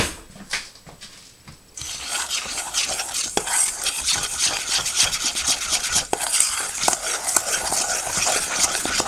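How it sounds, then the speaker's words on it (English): Tempura chicken batter of eggs and dry ingredients whisked in a bowl, a quiet start then a continuous rapid scraping and tapping rhythm against the bowl, no talking. "We're going to whisk it."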